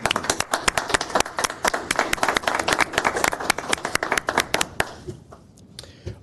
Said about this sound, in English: So just a round of applause for them.